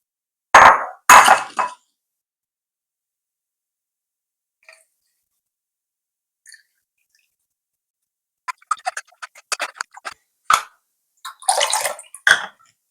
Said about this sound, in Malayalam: ഇതിങ്ങനെ പിഴിഞ്ഞെടുക്കുവാണെങ്കിൽ പുളിക്കാത്തുള്ള സത്തെല്ലാം ഇങ്ങനെ കിട്ടിക്കോളും